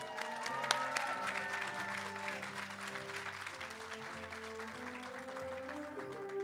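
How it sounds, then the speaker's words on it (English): A crowd at a graduation celebration for undocumented graduates applauds steadily for several seconds over a faint bed of tonal background music, with no voices rising above the clapping. "Let us give them another round of applause,"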